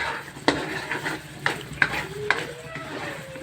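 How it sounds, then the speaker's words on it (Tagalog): Jackfruit mixture is stirred in a pan for a sweet treat, a spoon scraping and clacking against the pan with a few sharp knocks over a low sizzle. "Dili pinatuundangan pag-ukay, mga langga. Para dili masunog sa ilalim."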